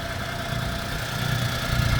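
A CF Moto U10 Pro side-by-side's three-cylinder engine idles nearby with a steady low rumble and a slight uneven throb, no voices.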